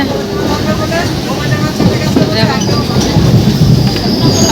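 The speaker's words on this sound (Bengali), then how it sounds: "আমাদের ট্রেন ছেড়ে দিয়েছে" A train departs Sealdah station, heard from on board as a loud, continuous, close rumble and clatter of the moving carriages, with a few voices faintly in the background.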